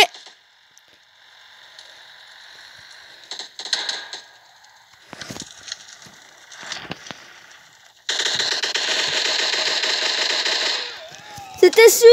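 An M249 machine gun fires in a video game, a loud sustained burst of rapid automatic fire after scattered softer game sounds and clicks, ending with a brief rising tone.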